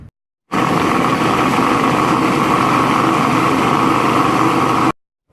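Food processor blitzing a gluten-free pistachio and date cake batter, a loud steady motor whir with grinding that starts abruptly, runs about four seconds and stops.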